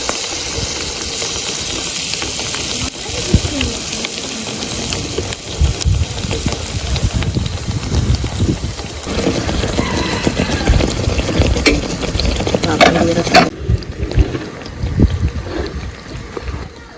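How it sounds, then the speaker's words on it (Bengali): Dragon fruit pithas fry in hot oil with a loud, dense crackle and hiss, rising as pieces are stirred and shifted, then dropping off sharply near the end. "তো এবার গরম তেলে ড্রাগন পিঠাগুলো ভেজে নেব।"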